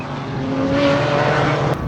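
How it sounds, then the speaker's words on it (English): Race cars in the under 2 litre class of an Improved Production race at Baskerville roar past at full throttle, a loud, close, sustained engine howl with shifting pitch. "After a couple of laps, Mackenzie once again led the under 2 litre class"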